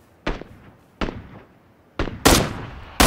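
Suppressed gunfire in a multiplayer shooter video game: five sharp, punchy shots at roughly one-second intervals, the last two louder and closer together, alone with no talk.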